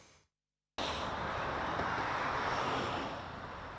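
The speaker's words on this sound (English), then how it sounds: "West Yorkshire has been treated to a variety of aircraft flying overhead." A military aircraft passes overhead near Leeds Bradford Airport in West Yorkshire, with a loud, steady broadband engine roar that starts suddenly after a brief silence and then fades slightly.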